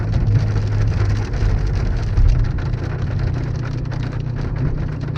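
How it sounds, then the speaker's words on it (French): Hail patters densely and steadily on surfaces and a car body, a continuous close clatter of many small impacts with no voices. "j'espère que c'est de la grêle passagère"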